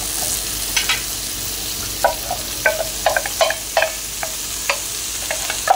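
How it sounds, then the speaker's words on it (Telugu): Chopped broad beans fry in a hot pan under a soft, continuous sizzle, with a spatula scraping and clattering through them in scattered, irregular strokes. "ఇప్పుడు చిక్కుడుకాయలు వేస్తున్నానండి. చిన్న చిన్న ముక్కలు కోసాను."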